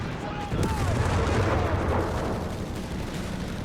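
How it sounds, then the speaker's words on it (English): Panzerfaust anti-tank rocket fired at a Sherman tank amid Company of Heroes 3 combat, a dense roar of gunfire and blasts sustained throughout, with faint voice-like sounds mixed in. "Friedrich there with a Panzerfaust, damaging the Sherman."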